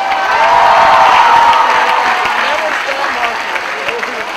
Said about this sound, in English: Would everyone join me in a warm round of applause for all these future Trojans